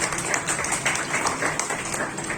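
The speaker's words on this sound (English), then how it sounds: "A big round of applause for him." A school audience applauds a student's first place in Yoga Rhythmic at an Independence Day celebration. Dense, steady clapping runs throughout at even strength, with no voices over it.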